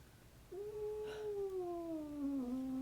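A cat being held against its will lets out one long, drawn-out yowl that starts abruptly and slowly slides downward in pitch, close and clear over quiet background.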